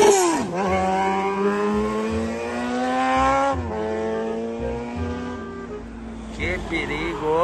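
A motorcycle engine revs hard and speeds along, its pitch climbing through repeated gear changes and dropping between them, loud and close throughout.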